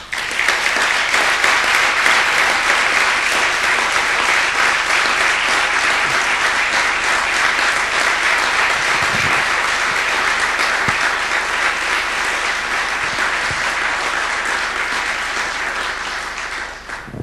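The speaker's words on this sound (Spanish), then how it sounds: "creo que todos juntos debemos darnos un gran aplauso." A large audience gives a long, loud, steady round of applause at the close of the Tecnap 2014 event, dense clapping holding evenly for the full stretch with no talk over it.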